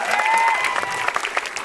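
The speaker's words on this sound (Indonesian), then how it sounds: "tepuk tangan sekali lagi" A stand-up comedy audience applauding loudly and steadily, with dense clapping and a few cheers, close and filling the whole moment.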